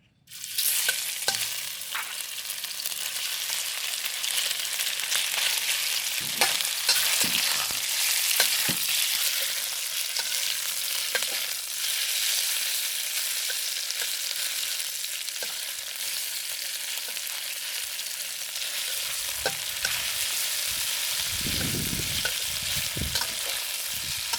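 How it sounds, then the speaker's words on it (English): Steak stir-fries in oil in a wok with a loud, continuous sizzle, joined by scraping and stirring noises, and no talking. "then I'm going to put all the steak in it"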